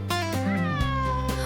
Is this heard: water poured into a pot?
no